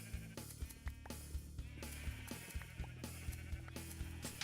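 Sheep in the Minecraft video game bleat repeatedly in short, evenly spaced calls over a quiet tonal background, with no voices present.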